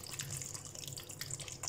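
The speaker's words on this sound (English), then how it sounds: "Go ahead and add my water." Water pours into a large blender jar holding pineapple, ginger and lemon, a steady trickling splash with brief bright spurts, close and alone.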